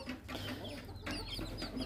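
A rooster with wild-junglefowl colouring at a bird market in Haripur clucks in short repeated bursts close by, against a busy background hum.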